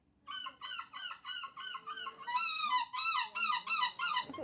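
A person imitates seagull screeching at a seagull screeching championship, a run of about ten close, loud, repeated squawking calls in a steady rhythm.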